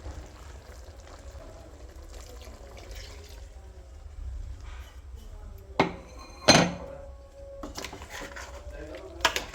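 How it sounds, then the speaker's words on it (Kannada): Water swirls in a mixer jar and is poured into a country chicken and field bean sambar, a quiet slosh followed by two short splashing pours midway and some light clinks of utensils. "ಇವಾಗ ನಾನು ಮಿಕ್ಸಿ ಜಾರ್ಗೆ ನೀರು ಹಾಕ್ಕೊಂಡು ನೀಟಾಗಿ ತೊಳ್ಕೊಂಡು ಆ ನೀರನ್ನ ಇದು ಸಾರಿಗೆ ಹಾಕ್ಕೊಳ್ಳೋಣ"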